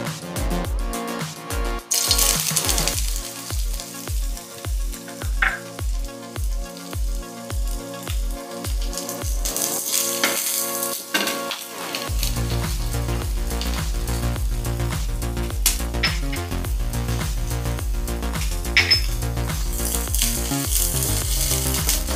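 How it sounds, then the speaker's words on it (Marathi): Onion, garlic and green chili fry in a pan for soya kabab, with a run of rhythmic scraping and tapping stirs early on, then a dense, steady sizzle filling the rest, close up. "आपण आता कांदा आणि लसूण मिरची फ्राय करून घेऊया।"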